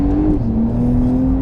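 A rear-wheel-drive Porsche 911 Carrera of the 992 generation, without sport exhaust, accelerates with a steady, loud engine drone whose pitch dips briefly and then holds. It sounds close and continuous, with no talking over it.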